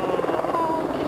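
A helicopter flies low over a professional cycling race, a dense continuous rotor roar that stays loud and steady throughout the short moment.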